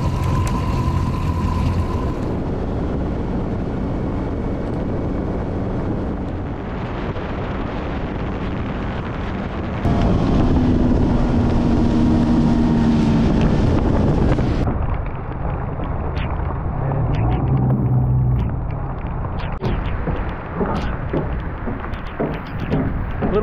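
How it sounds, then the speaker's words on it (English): An outboard motor drives a fishing boat across open water in the Everglades, a loud continuous engine drone mixed with wind rushing against the microphone, shifting in pitch as the boat picks up speed. "then we're able to start the outboard and run for it."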